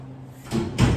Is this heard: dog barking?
no